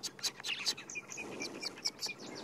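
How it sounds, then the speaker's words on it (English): Quick, high-pitched chirps and twittering calls of a white-bellied sunbird repeat rapidly, fairly faint against a quiet outdoor background at sunrise in the Sabi Sand reserve, South Africa. "There's also a white-bellied sunbird going."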